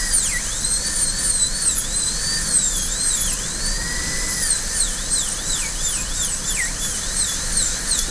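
A dental drill cuts away excess material between prepared teeth during a porcelain-fused-to-metal crown preparation on a maxillary canine, a steady high-pitched whine that dips and rises in repeated short sweeps as the bur meets the tooth, with no voices.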